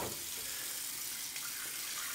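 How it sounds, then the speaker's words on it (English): A bathroom sink tap runs water for shaving prep, a steady, moderately quiet splashing stream that continues evenly throughout. "Now, I always go back to the sink and grab water."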